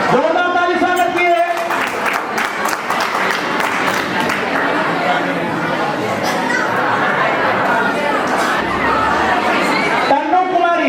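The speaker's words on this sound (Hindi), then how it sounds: "जोरदार ताली स्वागत किए।" A crowd claps and cheers in sustained applause welcoming a student at a farewell ceremony (vidai samaroh) at a Patna arts coaching center; a voice speaks before and after the clapping.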